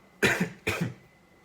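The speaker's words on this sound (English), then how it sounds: "So I got a bit of a cough." Two sharp coughs, close and fairly loud, about half a second apart, then quiet.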